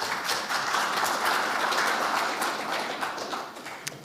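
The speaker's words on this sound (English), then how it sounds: "Round of applause for Luke, please." Sustained applause from a conference audience after a talk on an open framework for assessing building design, a dense steady patter of many hands at even loudness, tapering slightly near the end, with no voices over it.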